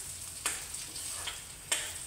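Urad dal fries in oil with a soft, steady sizzle and a few brief crackles and pops, faint and without voices.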